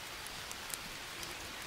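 Rain falls steadily in the jungle survival game Green Hell, a dense, even hiss of drops hitting surfaces with scattered louder taps, heard alone.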